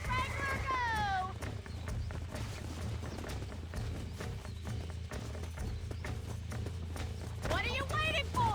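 Rapid hoofbeats of a galloping horse thud steadily throughout, with a horse whinnying at the start and end over a low rumbling backdrop, in the video game Red Dead Redemption Remaster.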